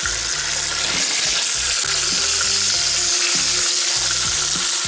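Quail browning in hot fat in a Dutch oven, a loud, continuous, close sizzle and crackle with no talking over it.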